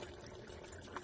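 Gasoline pours from a can with a spout into the fuel tank of an '83 Ford Ranger 4x4. It makes a faint, steady liquid trickle and gurgle, brief and close, with no talking.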